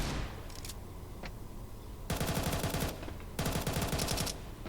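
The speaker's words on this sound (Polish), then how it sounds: "A te strzały to przepraszam, gdzie?" Rapid automatic gunfire in Counter-Strike comes in two loud, dense bursts after a few scattered single shots, with no voices.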